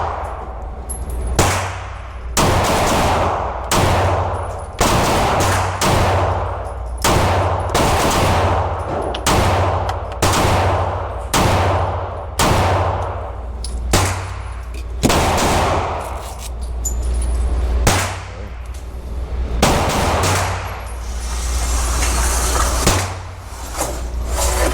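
Pistol shots from a Glock during test firing with a TTI Combat pistol, ringing out in quick groups of three, loud and close, with short pauses between strings and no talking.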